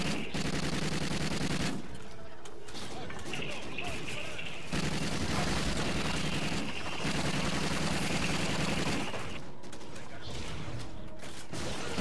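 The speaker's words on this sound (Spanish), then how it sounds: "Sigue disparando al bicho, tío" Rapid, loud video-game gunfire aimed at a creature, with dense bursts of shots running almost without pause through the stretch and only brief lulls between volleys.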